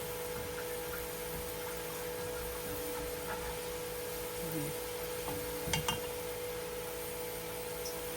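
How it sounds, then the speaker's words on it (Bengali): Small Bangladeshi onions fry in oil for beef balachao, giving a soft, steady sizzling hiss at low volume with a few faint clinks and stirring sounds, and no speech. "বাংলাদেশের ছোট ছোট পেঁয়াজগুলি আছে সেই পেঁয়াজটাই ভেজে নেবেন তাহলে ক্রিস্পিটা হবে ভালো"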